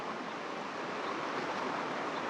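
Water laps and washes against the shore beside a spring hammock campsite, a steady broadband rush with no clear breaks, close and fairly quiet, with no voices.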